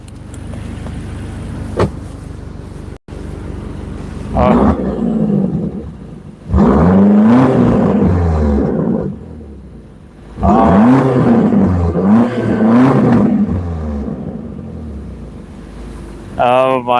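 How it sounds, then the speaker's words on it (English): A car's exhaust, freshly switched into its loud mode, opens up in two long throaty revs that swell, hold and fall away, close and powerful, with a short quieter rev at the start. "just activated the exhaust"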